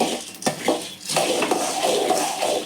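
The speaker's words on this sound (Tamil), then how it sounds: "சிம்மிலே தான்ப்பா வச்சு எல்லாத்தையும் வறுக்கணும்." Chana dal, toor dal and fenugreek are dry roasted in a pan over low heat, with a metal spoon scraping and clinking against the pan in a few close, quick strokes over a soft, steady rustle.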